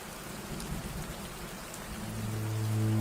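A cartoon rain effect: a steady downpour hissing throughout, with a low thunder rumble swelling louder near the end and no voices.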